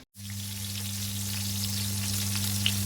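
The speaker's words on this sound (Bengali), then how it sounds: "বেগুন ভাজাটা বসা দিচ্ছে" Steady oil sizzle of eggplant slices frying in a pan, starting abruptly after a brief silence and holding constant, with a low electrical hum underneath.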